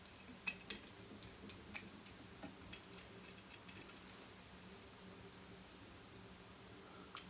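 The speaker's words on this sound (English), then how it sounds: "I'm better to use scissors." Scissors snip deer hair at a fly-tying bench while a streaking caddis is trimmed, giving a handful of small, close, crisp clicks in the first few seconds over a faint hiss, then quieter rustling.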